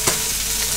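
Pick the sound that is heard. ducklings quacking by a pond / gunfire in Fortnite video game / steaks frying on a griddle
steaks frying on a griddle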